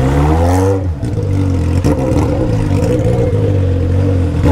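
A Honda Hornet motorcycle with a straight-pipe 3-inch Atalla 4x1 exhaust roars loud and close. Its pitch dips sharply near the start, then holds a steady, rasping drone alongside the clatter of the ride.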